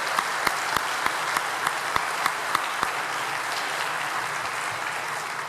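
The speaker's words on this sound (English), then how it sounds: "So I think we ought to applaud them for that." Audience at a fire service opening ceremony applauds steadily throughout, a dense wash of many hands with a few sharper individual claps standing out in a regular rhythm.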